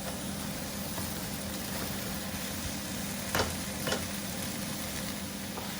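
Quiet continuous sizzling of leeks frying in a pan with apple and sausage juice, with a couple of brief stirring scrapes near the middle.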